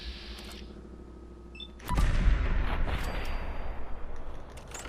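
A single gunshot fired in the video game Fallout 4, a sharp, loud report followed by a rumbling tail, standing out from a quieter game background.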